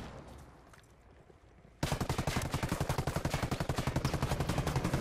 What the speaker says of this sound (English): Out for the flashbang.